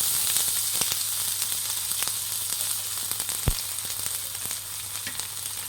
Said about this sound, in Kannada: ಶುಂಠಿ ಬೆಳ್ಳುಳ್ಳಿ ಹಾಕ್ಕೊಳ್ಳಿ.